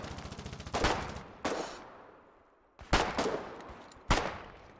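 Gunfire in the war game Foxhole comes as four sharp volleys: a rapid automatic burst, then single loud cracks, each tailing off into a long reverberant decay with quiet gaps between.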